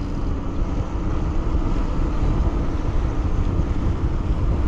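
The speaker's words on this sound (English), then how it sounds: "we tried it out on the flats with super windy conditions going up against" Strong wind hits a rider on an eBike mountain bike on flat ground, making a loud, constant, low roar of rushing air and microphone buffeting with no speech.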